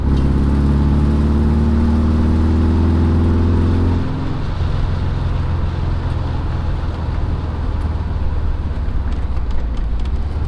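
A car driving over speed bumps, its engine humming loudly up close and then dropping to a rougher, rumbling drive noise partway through, with no talk.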